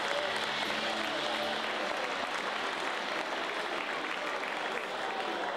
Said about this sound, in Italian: Un applauso a Tony.